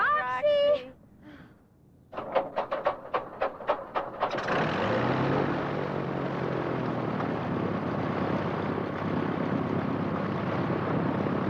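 A small propeller plane starts up, its engine coughing in a rapid series of bursts before settling into a loud, steady droning run that continues to the end.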